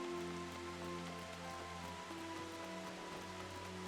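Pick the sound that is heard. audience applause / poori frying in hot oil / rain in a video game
rain in a video game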